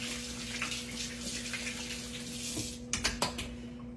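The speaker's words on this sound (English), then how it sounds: "let me wash my hands off and get all the sticky off of them" Tap water runs steadily from a faucet while hands are washed in a kitchen sink, a close, continuous hiss under a low hum, ending in a few sharp clinks and knocks.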